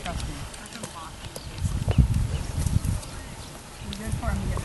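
Hooves of a small horse clip-clop over ground at a farm cross-country clinic, a run of uneven thuds rising and falling, with people talking nearby.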